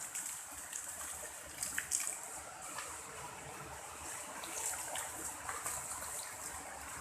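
Water runs from a pipe in a steady, soft stream with faint trickling and a few small splashes, fairly quiet and with no voices.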